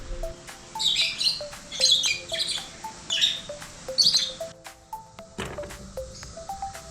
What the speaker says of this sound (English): Neat looking bird.